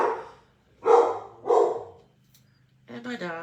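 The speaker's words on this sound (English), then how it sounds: "And my dog, of course, is barking." A pet dog barks in short bursts, three loud barks spaced about half a second apart, near and indoors, followed by a brief harsher bark or yip.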